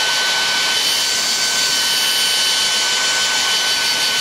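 A Philips Active Cool 1650 HP3462 hair dryer runs continuously with a loud, steady roaring whoosh and a faint high whine, held close and unbroken.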